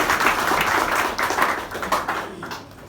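Applause from a seated audience at a Holi gathering show held by a bank, a steady patter of many hands clapping nearby that thins out and fades over the last second.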